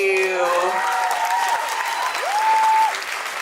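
Brief applause for contestants at a J-popcon 2019 cosplay craftsmanship contest, a steady crowd clapping texture lasting a few seconds, with voices and a tonal sweep audible over it.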